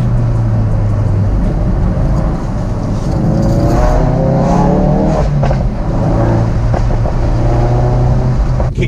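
A Ford Focus RS fitted with a Mountune upgrade accelerates hard, its engine note loud and close, rising and then holding a steady roar for several seconds, with no talk over it.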